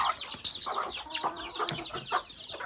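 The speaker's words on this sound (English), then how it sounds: "that's a straight bred brown red pullet that was hatched last year" A straight-bred brown red gamefowl pullet, hatched the previous year and free-ranging, gives close, repeated rapid clucks and short squawks in an uneven chattering rhythm, with no talking.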